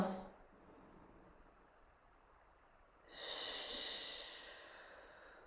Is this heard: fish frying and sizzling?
no